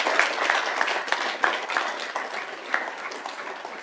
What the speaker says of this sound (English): If we could just keep the applause a little bit shorter